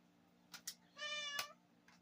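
A cat meows once, a clear drawn-out harmonic call close by, preceded by a couple of short soft sounds and followed by a faint one, with quiet surroundings and no talking.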